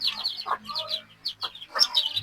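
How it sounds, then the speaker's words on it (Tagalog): A mother hen and her chicks clucking and chirping in a pen, short high peeps and soft clucks close by in quick bursts. "Ayan yung kanilang mother at ayan yung kanyang mga sisiw."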